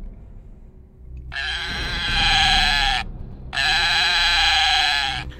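A goat bleats twice, each bleat a loud, long, quavering call, with a short gap between them over a low background rumble.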